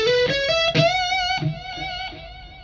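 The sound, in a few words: delay effect on audio track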